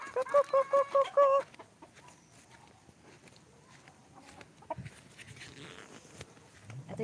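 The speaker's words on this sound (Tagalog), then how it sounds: "Mga manok. Kukukukukuku." Chickens in a rural home garden give a quick run of loud, rapid clucks at the start, followed by a quieter stretch of faint rustling and footsteps.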